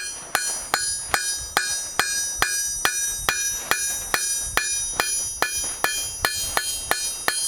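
Hammer blows ring out on hot steel as a kebab skewer is flattened and curved on an anvil, a steady near-even rhythm of about fifteen sharp metallic strikes, each with a bright ringing tail.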